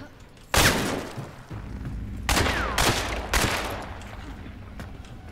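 Gunfire in a video game, with a sharp blast followed by a rapid cluster of three loud close shots over a background of game noise.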